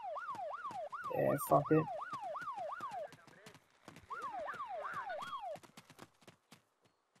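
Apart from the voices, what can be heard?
police car siren in the video game ArmA 2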